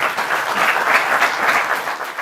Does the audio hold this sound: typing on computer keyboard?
no